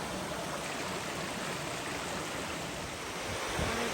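A small waterfall in Cape Chignecto Provincial Park, Nova Scotia, gives a steady, broadband rushing roar that fills the whole moment, close and constant, with no voices over it.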